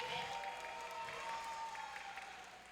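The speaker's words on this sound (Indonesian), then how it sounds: "Kita beri tepuk tangan sekali lagi." An audience claps at a Christmas children's performance in a church hall, a faint, steady patter of many hands that tapers off slightly toward the end.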